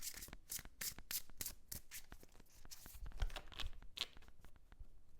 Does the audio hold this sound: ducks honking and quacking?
no